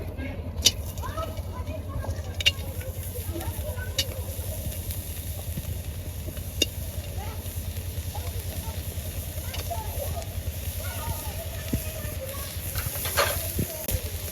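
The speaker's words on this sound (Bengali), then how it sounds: "শুটকিগুলো বেজে নিবি" Bashpata dried fish fries in a pan with a little oil, a low, steady sizzle broken by occasional scrapes and taps of stirring, while a voice talks faintly in the background.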